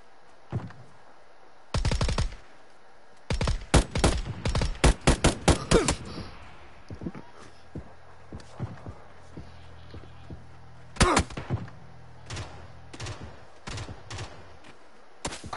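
Scattered gunshots in PUBG, a loud burst followed by a run of sharp rapid shots, a quiet gap, then another cluster of shots, with faint background rumble between volleys.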